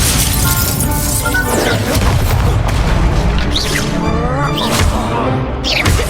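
Fiery Incendio spell blasts in Hogwarts Legacy during a Crossed Wands dueling round, with loud, dense crashing bursts and whooshing impacts repeating amid other spell effects, no pause in the din.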